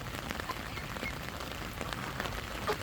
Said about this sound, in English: In the pissing rain.